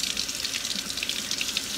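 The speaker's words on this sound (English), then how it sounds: "run some cold water and just use your thumb and see how that skin just sloughs off" Cold water running from a kitchen tap over roasted poblano peppers in a sink, a steady close hiss and splash that continues evenly throughout.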